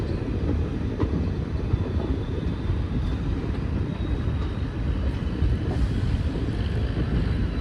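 A passenger train pulls out of Varanasi railway station at night, filling the space with a steady, dense rumble and rattle of wheels and carriages, continuous and fairly loud without talk.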